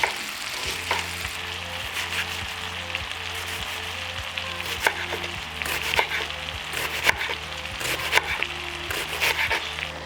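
Button mushrooms fry in butter with garlic in a pan, giving a steady close sizzle broken by frequent small pops and spatters, with a low hum running underneath.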